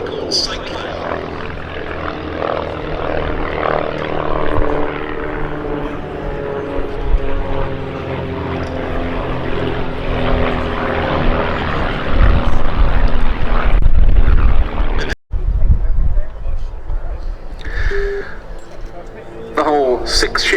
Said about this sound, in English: in come the other aircraft, with 3 in formation and the 4th, barrel rolling around their smoke